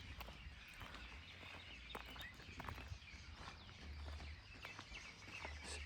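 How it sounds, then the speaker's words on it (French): Small birds waking at dawn in a mangrove at Sainte-Marie give faint, scattered chirps and tweets, mostly distant, over a low steady rumble and soft rustling. "J'espère que vous entendez bien tous les petits oiseaux qui sont en train de se réveiller."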